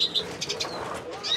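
A green siskin cock bird flaps its wings while being held and handled, giving a few quick, close, papery flutter bursts over a second or so.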